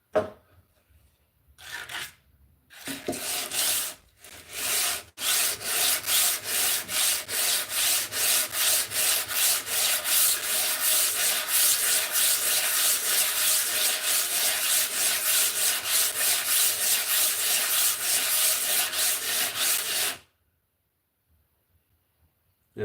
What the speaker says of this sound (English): Did it burn out with the belt sander?